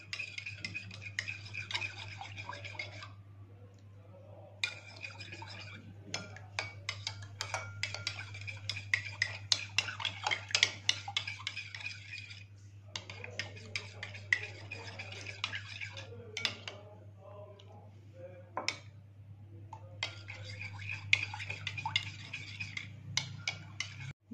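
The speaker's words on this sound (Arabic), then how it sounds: "اقلب لغايه ما كله يتجانس مع بعض" Shampoo, water and salt stirred together in a container for a hair-growth mix, making repeated soft clicking and scraping taps in an uneven rhythm, close and fairly quiet over a steady low hum, with short pauses.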